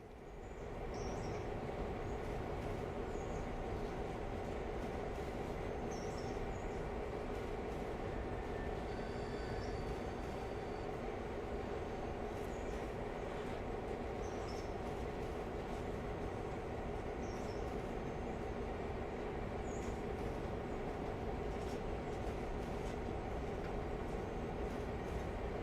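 A train shunting in a railroad video game, a steady low rumbling of rolling wagons with a faint rhythmic clatter and occasional soft squeals, heard at a distance without any speech.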